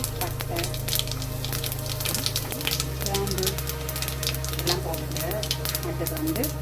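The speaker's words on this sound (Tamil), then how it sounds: "கொஞ்சம் எண்ணெய் ஊற்றிட்டு எல்லாம் சூடான பிறகு கொஞ்சம் சீரகம்" Steady hiss and crackle of cumin seeds frying in hot oil, continuous and close, with a low hum underneath throughout.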